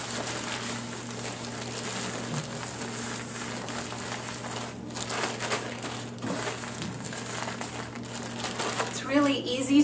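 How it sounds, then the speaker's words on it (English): A plastic bag crinkles and rustles continuously while raw chicken breasts are shaken inside it to coat them in breading, close up, with a person talking over it. "Really easy to bread chicken breasts in a plastic bag"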